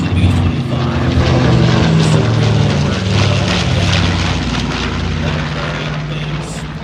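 A PBJ twin-engine propeller bomber, similar to a B-25, flies past at a military air show, its loud, steady droning engine roar filling the air for several seconds.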